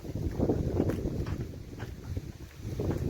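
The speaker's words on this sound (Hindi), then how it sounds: "हवा चल रही है बहुत" Strong wind roars steadily into the microphone, a broad rumbling gust that swells and eases over a few seconds, with no voices.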